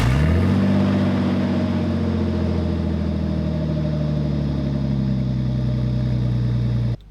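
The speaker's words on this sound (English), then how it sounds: "Of course we had to cold start it while the straight pipe" A Nissan R32 Skyline with a straight pipe exhaust cold-starting: the engine catches after a brief crank, then settles into a loud, steady, rumbling high idle that holds close and constant until it cuts off abruptly.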